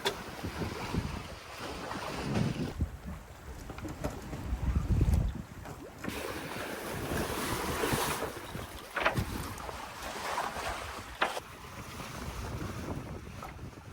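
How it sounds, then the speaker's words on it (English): A sailboat cruises under full mainsail and jib in light wind of about 4 knots, heard as steady rushing wind and water noise with gusty swells and buffeting against the microphone. "Now I got the full mainsail up, and we're cruising pretty good for like 4 knots of wind."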